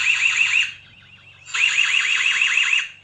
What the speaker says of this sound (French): Alarme.